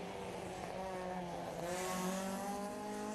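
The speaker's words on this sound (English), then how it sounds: "Paul Gilbert's Datsun 1600 on his way around the circuit." A Datsun 1600 race car drives around a circuit at a historic grassroots sprint meeting in Leyburn, its engine a steady, fairly distant drone that builds slightly in pitch.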